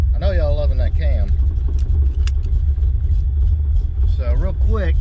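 A 331 stroker Fox body Mustang idles with a loud, steady low rumble that stays close throughout. Someone talks over it at the start and again near the end.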